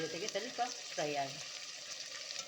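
Green chillies, fenugreek leaves, coriander and mint frying with smashed tomato for egg biryani, a low steady sizzle running beneath a person speaking.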